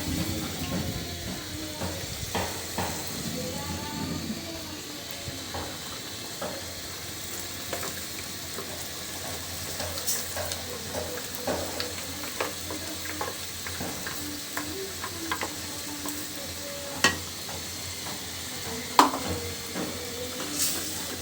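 Spices and paste for a beef and lentil dish fry in a pan with a low continuous sizzle and hiss, punctuated by occasional scraping stirs and a couple of sharper clinks.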